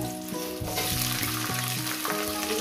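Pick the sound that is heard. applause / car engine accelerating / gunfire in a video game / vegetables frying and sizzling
vegetables frying and sizzling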